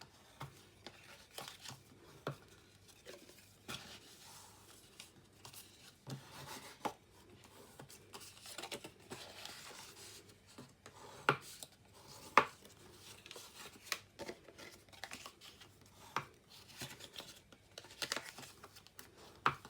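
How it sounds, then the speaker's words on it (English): Cardstock being folded and burnished along score lines while assembling a mini chocolate box, giving quiet, close rubbing and rasping strokes with scattered soft crinkles and light taps throughout. "So we are folding and burnishing on all the score lines."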